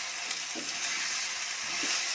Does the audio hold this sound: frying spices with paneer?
yes